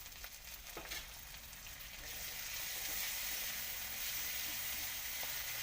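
Ginger garlic paste sizzles in a hot pan for a fish and tomato curry, a steady close frying hiss that swells louder as it cooks, with a few faint stirring clicks.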